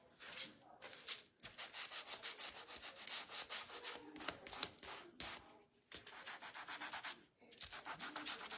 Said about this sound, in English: I'm gonna over sand the ends here. And then the corners.